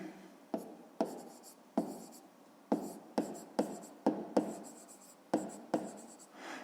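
A pen scratches on paper in a row of short strokes, about a dozen quick close scribbles with brief pauses between them, fairly quiet and with no talk.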